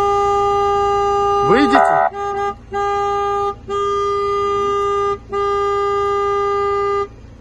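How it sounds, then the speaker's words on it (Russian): A car horn blaring in long sustained blasts separated by short gaps, loud and close, with someone speaking briefly near the start. "Я сигналю просто, чтобы вышли."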